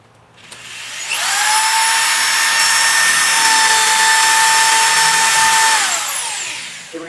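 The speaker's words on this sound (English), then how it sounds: "We're going to go ahead and drill the first hole out now in the wall." A power drill bores a hole into a wall for a rolling shutter window installation, whining steadily and loudly for about five seconds before spinning down, with no talking.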